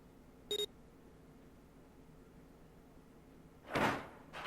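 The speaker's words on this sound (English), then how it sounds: "The door opened." In the visual novel 999, a short electronic beep comes first, then after a pause a door slides open with a brief, loud whoosh.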